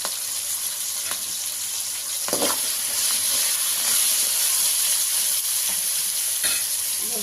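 Onion and curry leaves frying for sambar on a low flame, a continuous hissing sizzle broken by several stirring scrapes of a spoon in the pan, no talk.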